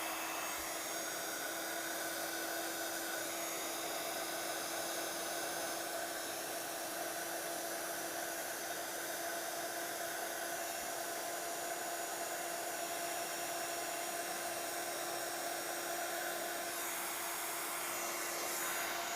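A heat tool blows on a stamped card in a steady, loud, continuous whirring rush that runs unbroken for the whole stretch, with no talking.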